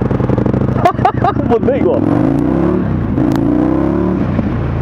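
An Indian FTR1200 motorcycle engine runs in rain mode, a loud steady drone with a few quick throttle blips and rising revs, while someone speaks briefly over it.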